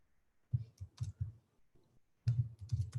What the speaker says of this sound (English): let me just type that to our subscribers